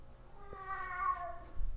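A pet cat gives a single drawn-out meow with a clear tonal, wavering pitch, close to the microphone and heard alone in a quiet room, with a faint bump of handling noise just after.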